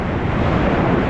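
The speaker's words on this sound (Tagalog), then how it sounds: "sobrang lakas ng alon." Strong ocean waves at the shore, a loud, continuous roar of surf mixed with heavy wind buffeting the microphone, with no voices during the short stretch.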